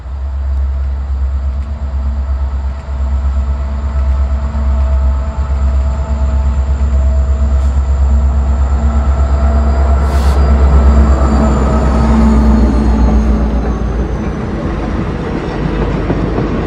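C&O 614 steam locomotive being moved along railroad tracks at slow speed, a loud continuous low rumble and rolling rattle with faint squeals and a brief hiss, sustained throughout with no voices.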